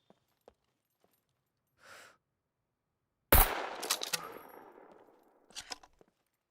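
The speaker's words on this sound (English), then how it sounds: "there's definitely someone else taking pop shots at me" Gunfire from another player in the survival game SCUM: one sharp, loud crack followed by a ringing, decaying tail, with a few fainter clicks before it and another burst of snaps near the end.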